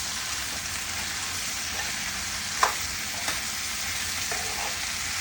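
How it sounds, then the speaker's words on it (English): Food frying in a pan and being stirred gives an even, hissing sizzle throughout, with a couple of soft scraping taps from the spoon. "Just gonna give it a stir."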